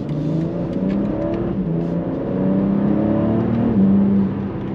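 A 2023 BMW M3 G80 engine pulls under throttle from inside the cabin, a steady, loud, continuous drone with rising harmonic tones that climb and sustain over several seconds, no talking.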